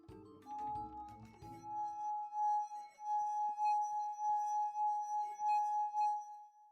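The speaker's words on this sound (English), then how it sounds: "All right, let's look at this water glass clip." A water glass rings out in a clear, sustained tone after a brief clatter at the start, holding steady and fading slowly, close and alone.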